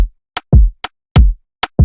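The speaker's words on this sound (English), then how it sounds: "Next is just a bassy kick." A deep, booming Afrobeat kick drum thumps in a steady pattern, each low hit ringing briefly, alternating with a sharp, snappy click.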